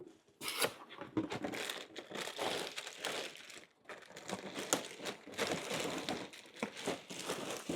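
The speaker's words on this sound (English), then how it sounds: "Okay, let's open it up. Okay, they come in plastic." Plastic packaging around car floor liners is crinkled and torn open close by, with irregular bursts of rustling, crackling and tearing across the whole stretch, no talk.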